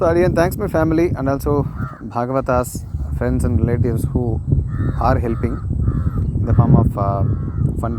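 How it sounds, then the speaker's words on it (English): Crows caw repeatedly outdoors in a village setting, steady and fairly close, beneath continuous talk from someone speaking throughout. "You could also hear the chirping of the birds in the background."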